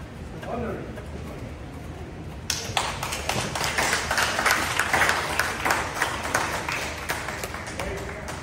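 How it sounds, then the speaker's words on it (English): Applause breaks out at a Knights of Columbus past chapter presidents dinner in Southern California, a dense patter of clapping that swells in partway through and continues steadily over murmuring room chatter. "How about another round of applause to our honor?"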